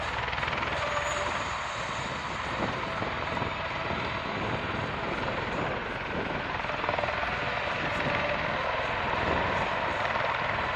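A V-22 Osprey tiltrotor aircraft flies nearby at an airshow with a continuous rotor thrum and engine roar, a rapid chopping pulse under steady broadband noise.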